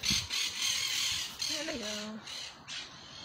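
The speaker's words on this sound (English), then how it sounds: "I call them chichi birds, little parakeets." Small parakeets squawk in harsh, scratchy calls, a few short bursts at a moderate distance over a noisy outdoor urban garden background, with someone speaking briefly.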